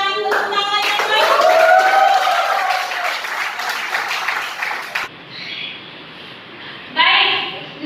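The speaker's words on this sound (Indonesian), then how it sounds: "Berikan tepuk tangan yang baik" A classroom of children claps for the best group, a dense burst of applause with some young voices mixed in, fading out after about five seconds, then a short loud chirp of voices near the end.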